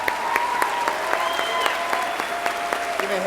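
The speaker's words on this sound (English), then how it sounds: "Let's give them one more round of applause." A crowd applauding at a high school graduation ceremony, steady clapping that fills the space throughout, with a few sharper individual claps standing out and a voice faintly underneath.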